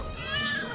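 Several cats meow in a television commercial, short high mewing calls close up over a light background, with no talking heard.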